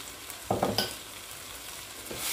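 Masala of chilli powder, garam masala and coriander powder fries with softened tomatoes in a pan for biryani. A few close scraping stirs cut through a steady sizzle, with no talking.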